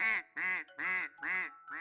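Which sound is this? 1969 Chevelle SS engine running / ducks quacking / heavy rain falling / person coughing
ducks quacking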